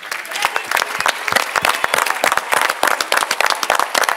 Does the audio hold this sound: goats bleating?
no